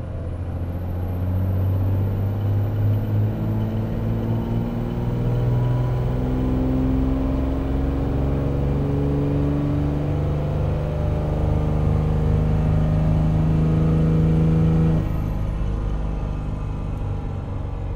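Diesel engine on a dyno making a fuel-only pull, a steady loud roar with rising harmonic whine that climbs through the run, then cuts off sharply near the end, no talking.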